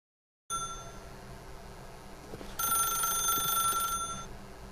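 A desk telephone rings in The Stanley Parable, a steady electronic tone that sets in after a moment of silence, then swells louder and brighter midway before easing off slightly, heard alone without speech.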